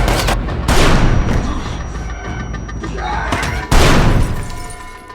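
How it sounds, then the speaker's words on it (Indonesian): Bursts of gunfire from an action film scene crackle and boom in two loud volleys, with rapid shots and shattering impacts between them. "Suara tembak-tembakan mulai terdengar ke ruangan aman sang menteri."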